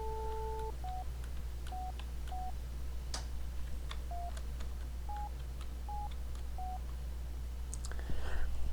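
Touch-tone telephone keys are pressed one after another in the Police Quest video game, a series of short dialing beeps at an irregular pace over a steady low hum, fairly quiet.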